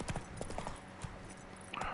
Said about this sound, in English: How could you tell I'm a witcher just riding a little horsey horse?